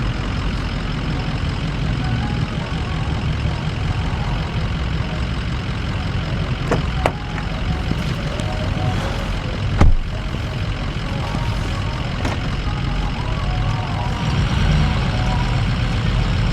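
A vehicle engine reversing under light throttle, a loud continuous low rumble with a few sharp clicks and knocks, no talk.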